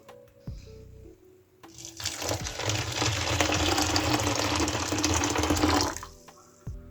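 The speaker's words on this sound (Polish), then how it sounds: "wlewamy 250 ml gorącej wody" Hot water poured from a kettle into a small bowl over lemon jelly powder, a steady splashing pour lasting about four seconds, close and fairly loud, with soft clinks before and after.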